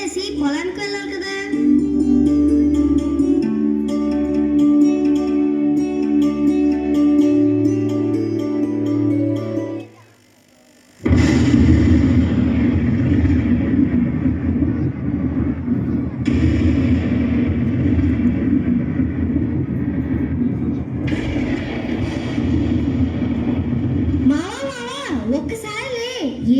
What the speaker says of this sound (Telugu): ఒక్కసారి ఏంటి ఊరుములు మెరుపులు? వర్షం పడేలా ఉంది.